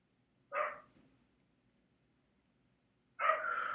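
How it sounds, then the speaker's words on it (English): A dog barks twice, once near the start and again near the end, with a quiet pause between; the barks are clear and fairly close. "Even when the dogs bark"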